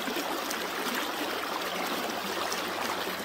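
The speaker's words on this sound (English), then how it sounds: "Current's a little bit swift." Steady rushing water fills the clip, a constant broadband wash of current flowing past with no voices.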